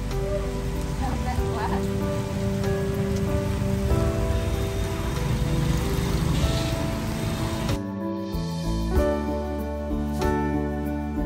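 Rain pours steadily during a rainy motorbike ride, a dense loud patter on surfaces that continues throughout and shifts abruptly near the end into a sparser, closer drumming.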